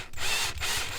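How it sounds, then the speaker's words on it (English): Power driver or ratchet running screws back in near the shift knob of a Mitsubishi Evo 8 interior, a loud, close whirring that pauses briefly twice within a second. "Now I just gotta put these two screws back in."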